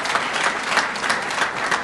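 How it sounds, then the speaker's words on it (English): An audience at a launch ceremony in New York City gives the honorees a round of applause, continuous even clapping from many hands at close range. "Let's give all of the honorees a big round of applause"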